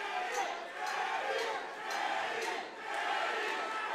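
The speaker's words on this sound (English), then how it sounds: "The crowd's now having warring chants here" Crowd at a grappling fight-series match chanting in rising and falling waves, loud and roomy, with rhythmic swells about every second.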